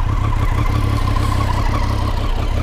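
A motorcycle fitted with a Dominator slip-on exhaust idles steadily about a meter away, a loud, even low rumble with no revving.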